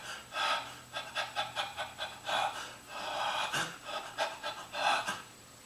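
Rapid, rhythmic breathing close up, short forceful breaths in quick succession imitating hyperventilation, heard alone without talk.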